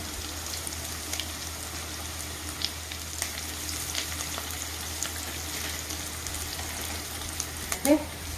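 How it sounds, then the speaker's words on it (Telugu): Onions, green chilies and curry leaves fry in a pan with a steady, soft sizzle and light crackle throughout, with a brief clink near the end. "ఉల్లిపాయలు వేస్తున్నాను ఉల్లిపాయలు పచ్చిమిరపకాయ వేస్తున్నాను కరివేపాకు వేస్తున్నానండి"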